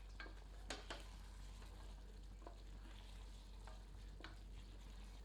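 Azamgarhi-style mutton curry simmering under a lid while a ladle stirs it, with a steady low sizzle and a few sharp scrapes and clinks of the ladle against the pot. No one speaks.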